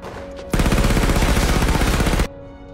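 Sustained burst of automatic gunfire from soldiers' weapons in a zombie war film, loud and close, a dense rapid rattle lasting under two seconds before cutting off to quiet background.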